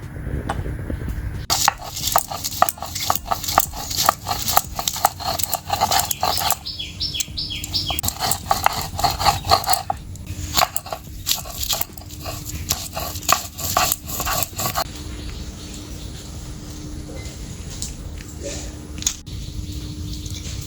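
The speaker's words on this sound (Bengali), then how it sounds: "আর এখানে 5টা কাঁচা লঙ্কা, অল্প একটু আদা আর কয়েক টুকরো রসুন একসাথে বেটে নেব।" Green chillies, ginger and garlic ground into paste for a Bengali hilsa fish curry, giving rapid repeated grinding strokes in bursts, close and loud, with a few brief gaps.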